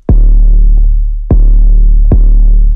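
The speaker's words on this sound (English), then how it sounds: "So I just gathered some sounds from Splice and I found an 808 that I liked." A deep 808 bass sample from Splice in a hip-hop beat, three long booming sustained notes with sharp attacks and slow decay, loud and alone without drums.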